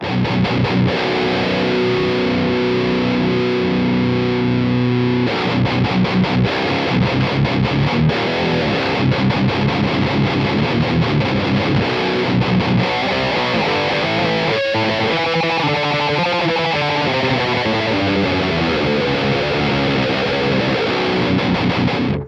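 High-gain electric guitar played through an Aurora DSP Laboga amp, Mr. Hector model, gives a thick, saturated distorted tone with sustained chords and busy riffing, loud and continuous throughout with no talking.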